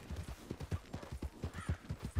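Horse hooves clip-clopping in Red Dead Redemption 2 online, a steady rapid rhythm of soft thuds at moderate level, with no talk.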